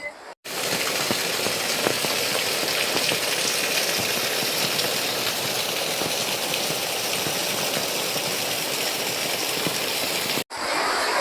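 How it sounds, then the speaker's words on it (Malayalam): Steady, dense rain pours down for several seconds as a constant loud hiss, close and unbroken, with no voices. "അല്ലപ്പ എന്ത് മഴ പയ്യുന്നു."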